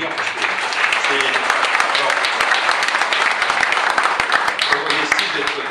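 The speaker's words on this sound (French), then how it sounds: "Je crois qu'on peut l'applaudir" An audience claps for a speaker at a talk, a dense, steady round of applause lasting several seconds with a murmur of voices underneath.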